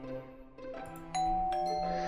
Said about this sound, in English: I ring the doorbell and patiently wait